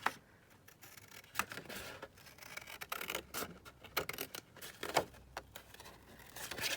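Scissors snip through decorative paper at a crafting table, a series of sharp, close cuts and light rustles at an irregular pace with no voices.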